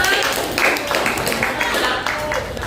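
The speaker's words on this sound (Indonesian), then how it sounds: "Tepuk tangan untuk kelompok 5." Classroom applause from students for a presenting group of schoolchildren, a brief, fairly loud patter of many hands clapping together in a small room.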